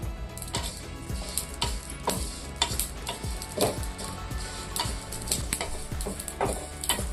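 Sesame seeds dry-roast in a pan for laddoos, giving a soft, quiet rattle and crackle with repeated light scraping ticks from stirring at an uneven rhythm.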